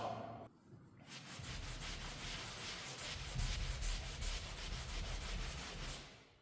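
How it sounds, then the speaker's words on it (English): A rag wipes leftover drywall mud off the paper face of sheetrock, giving a continuous close, rough rubbing and scraping that runs for several seconds before fading out. "let me show you how quick and easy it is with just a rag to take that off"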